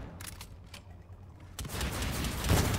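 Sniper rifle fire in Call of Duty: Infinite Warfare, a sharp gunshot burst around the midpoint followed by a sustained loud crackle of gunfire and game noise.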